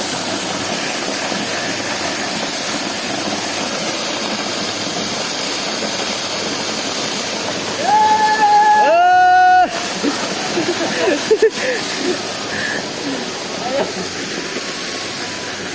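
Chhange Jharana waterfall in Nepal gives a steady, broad rushing roar throughout. Midway, a short tonal call and voices rise briefly above the roar.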